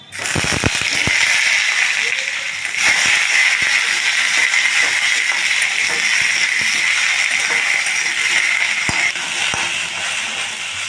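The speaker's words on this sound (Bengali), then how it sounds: "কুলগুলো দিয়ে দিচ্ছি" Whole jujube fruits (kul) drop into a pan of hot oil with mustard seeds for a sour-sweet chutney. Loud, continuous sizzling and spluttering is broken by sharp crackles and pops, with a few early clacks as the fruits land.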